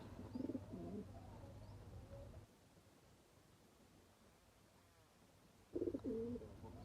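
Two pigeons, a half-jhalar and a Pakistani breed, coo softly nearby. A short throaty cooing burst opens the stretch and another comes near the end, with quiet background noise between them.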